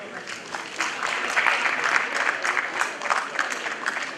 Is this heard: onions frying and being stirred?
no